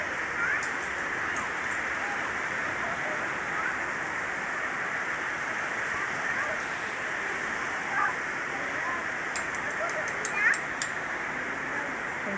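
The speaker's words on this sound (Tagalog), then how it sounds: "Lakas ng ulan." Heavy rain pounding down at a new public market in San Jose del Monte, Bulacan, a loud, dense, steady roar that runs the whole time, with a few faint sounds above it.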